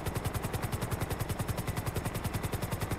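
A helicopter in a French multiplayer video game thrums with rapid, even rotor thumps over a dense, loud whine, continuous and close throughout.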